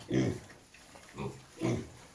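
A tall purebred Large White boar grunts three times in short, deep bursts, close by, with brief quiet gaps between.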